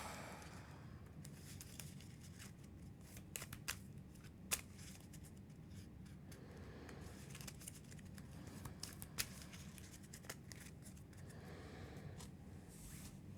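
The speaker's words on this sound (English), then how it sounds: "All right, shuffle these up." Playing cards being shuffled by hand at a tabletop game of Earthborne Rangers, a quiet, close series of soft riffling and snapping bursts with brief sharper clicks, no talking.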